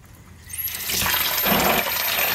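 Water drains from a flood-damaged Suzuki Cappuccino gearbox, starting as a faint trickle and swelling within a second into a steady, close splashing pour that continues loudly to the end.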